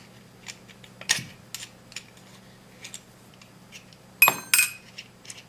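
A small wrench works the barrel bushing of a CZ 97B .45 ACP pistol, giving scattered light metallic clicks and clinks, with a couple of sharper louder clanks, close and quiet.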